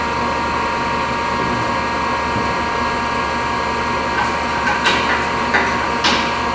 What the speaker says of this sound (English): I'm going to have to top this off with shop air to get the 80 PSI that I want in here.